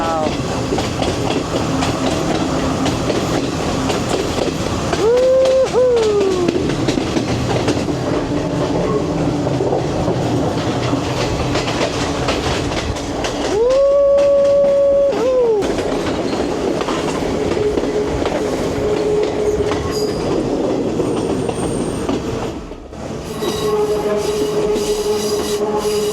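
A passenger train running through the Sri Lankan tea country from Kandy to Ella, with loud steady clattering on the rails, a couple of drawn-out wheel squeals, and voices in the carriage.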